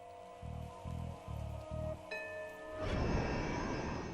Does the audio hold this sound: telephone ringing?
no